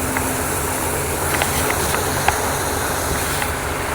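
A boat engine drones steadily while sailing toward Split in Croatia, a loud continuous broadband rumble with wind and water noise and a few faint clicks, no voices over it.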